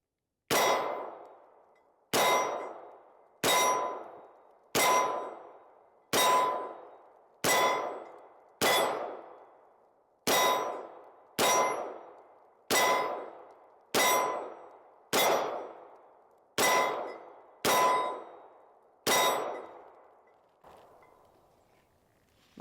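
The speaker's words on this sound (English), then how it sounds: "just shooting for the dead center of that 8-inch plate" FN Reflex XL pistol fired at an 8-inch steel plate from 10 yards: about fourteen sharp shots with ringing metallic clangs, evenly spaced roughly every one and a half seconds, each decaying before the next, with no talking.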